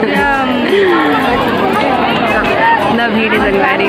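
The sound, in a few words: crowd chatter at a religious gathering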